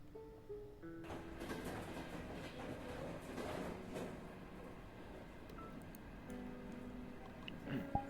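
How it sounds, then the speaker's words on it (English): A train passes by in the VRChat game world, its wheels giving a continuous clickety-clack rumble with faint ticking tones over it, steady and moderately distant, with no talk. "I have not seen the train pass by that much in my entire time being here"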